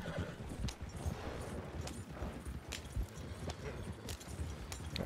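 Hooves of a horse following its rider clip-clop steadily in Red Dead Redemption 2, an irregular trotting rhythm with a whinny, fairly quiet and close over an ambient outdoor game backdrop.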